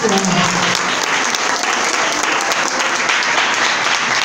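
A church congregation at an evangelical women's gathering bursts into loud, dense applause, a continuous roar of clapping that holds steady throughout.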